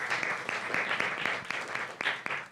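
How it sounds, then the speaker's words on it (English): A small indoor audience gives a short round of applause, a dense patter of clapping with a few sharper claps, fairly quiet and without talk. "All right, give her a round of applause."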